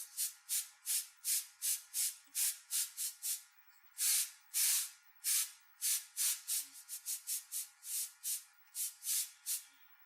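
Airbrush hissing in repeated short bursts while painting flesh tones on a skull illustration; close, steady spray pulses with brief pauses between them and no voices.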